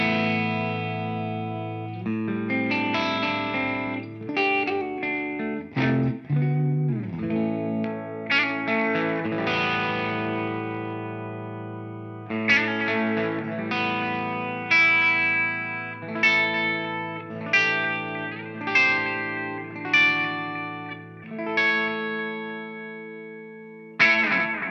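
A dry electric guitar plays through a Maestro Discoverer analog delay pedal with the mix turned off, giving a steady run of clear, close picked notes and chords in a loose rhythm, alone with no talking.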